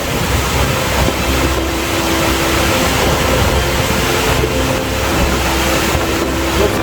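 Torrential floodwater of a river swollen by a cyclone on Réunion surges in a constant heavy roar, loud and near, with gusts of wind rumbling across the microphone throughout.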